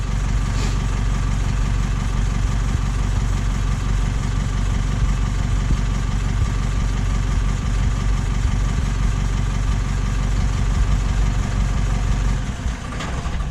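A diesel engine idles steadily and loud throughout, a low, constant rumble close by that suddenly cuts out near the end as the auto shut-off stops it.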